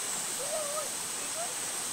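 A strong river current rushes steadily as a constant broad hiss in a clean, cold provincial river where people swim, with a faint voice briefly audible above the flow.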